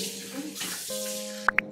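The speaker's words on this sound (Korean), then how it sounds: "우선 세수를 해보겠습니다." Tap water runs steadily into a sink during a morning face wash, a continuous close hiss with two short sharp clicks or splashes near the end.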